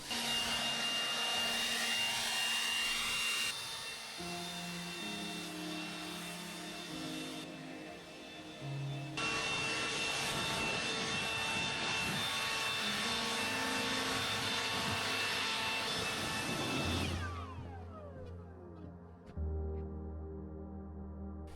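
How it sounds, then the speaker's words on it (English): Leaf blower engine running steadily while blowing leaves and fallen needles off cabin decks and docks on an island, a loud continuous roar that shifts pitch as it moves, then drops and idles near the end. "I'm just going around and blowing the leaves off of the decks and docks, all the needles coming down."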